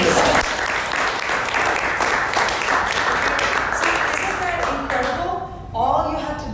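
An audience at a business mastermind event claps loudly and steadily for about five seconds before the applause fades and a voice starts speaking.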